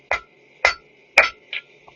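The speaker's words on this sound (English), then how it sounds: "So now I'm using the square side of my hammer" Hammer striking heated metal on an anvil, square face of the hammer, four sharp ringing blows with pauses between, the last lighter, close and loud over a steady forge hum.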